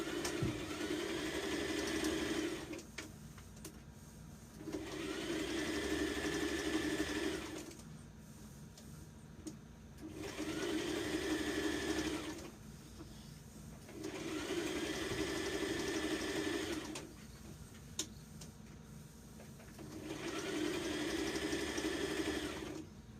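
A sewing machine stitches the seam allowance down to a dress facing in five evenly spaced runs of steady whirring, each a few seconds long, with quiet pauses between, close and clear without talk.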